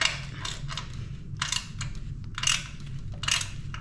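Removing a long black bolt from a KUGOO Wish 01 electric scooter, a series of short metallic ratcheting clicks in repeated bursts, close by with a low steady background hum.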